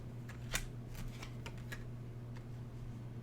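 Tarot cards being shuffled, a handful of soft, quick riffles and flicks close by over a low steady hum, with no one talking.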